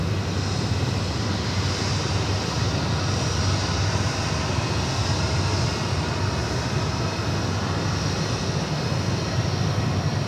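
An American Airlines jet from Los Angeles lands over the fence line onto runway 16 right at Sydney Airport, producing a steady, fairly loud broadband engine rumble and rush, like wind or surf, throughout.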